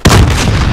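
A planted explosive detonates in a video game with one sudden, loud boom. A deep rumbling tail follows it for under a second.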